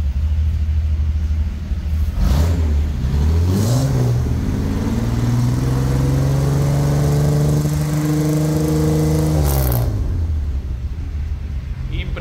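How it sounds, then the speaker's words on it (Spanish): A 1975 Torino GS engine revs up hard through the exhaust, the deep roar climbing in pitch and holding high before dropping off, loud and close. "Cerramos el avance con la última acelerada"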